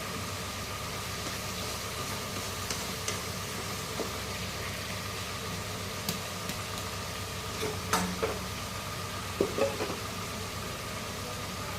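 Soft, steady sizzling of mixed vegetable pickle frying in a pan for about three minutes, with a few faint clinks and stirring sounds near the end; no talking.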